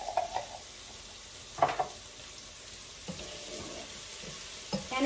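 Garlic sizzles in a hot pan while being cooked down for stuffed cabbage rolls, a soft steady frying hiss broken by a few clinks and scrapes of a utensil against the pan.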